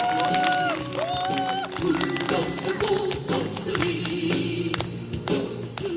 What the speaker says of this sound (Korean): 큰 박수 주십시오.